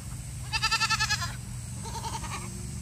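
Goats bleat in quick wavering bursts, a loud stuttering call followed by a softer, higher one, over faint outdoor background noise.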